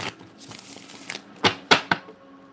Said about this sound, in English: Two more shuffles and we good to go.